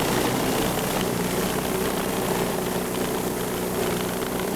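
Ryobi 40V HP brushless Whisper snow blower clearing shallow wet snow, a steady close motor drone with a whirring auger, continuous and loud with no talk over it.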